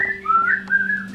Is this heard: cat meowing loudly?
no